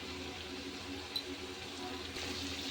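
Water is drained off freshly washed desi chicken meat in a kitchen, a steady close rush and splash of liquid with no talking.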